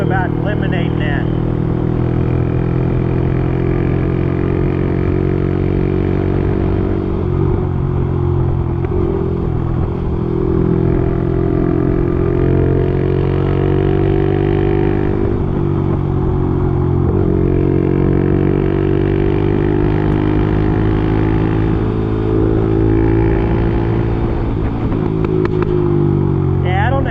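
A Honda CT motorcycle engine runs continuously while riding, a loud, steady, rumbling drone with slight rises and falls in pitch and no break throughout.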